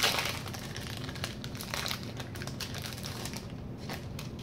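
Crinkly foil wrapper of a Magic: The Gathering Eldritch Moon booster pack being torn and handled, a steady close crackle and rustle with scattered sharp crinkles throughout.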